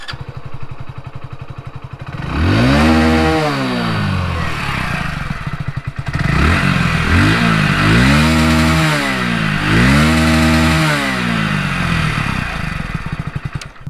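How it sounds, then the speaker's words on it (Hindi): A Hero Splendor Plus BS6 motorcycle engine idles, then revs up hard several times in a row, its loud exhaust rising and falling with each throttle blip. "अब इसका एग्जॉस्ट नोट सुन लेते हैं"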